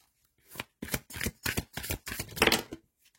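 Tarot cards being shuffled, a series of quick papery riffles and flicks in close, soft bursts with short pauses between them, heard alone.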